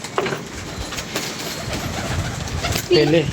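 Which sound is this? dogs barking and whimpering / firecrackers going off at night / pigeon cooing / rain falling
pigeon cooing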